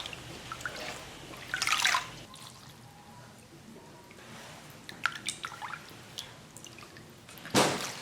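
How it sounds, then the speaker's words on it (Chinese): Sliced pig liver is rinsed and handled in water, with drips, splashes and wet squishing bursts at close range, intermittent and fairly quiet. "切好的猪肝多洗几遍"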